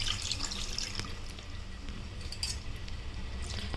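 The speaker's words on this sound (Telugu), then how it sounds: "ఇప్పుడు వాటర్ యాడ్ చేసుకుందాము." Water is poured into a pan of Godavari-style fish curry with okra, giving a soft, continuous splashing and trickling for a few seconds without talk.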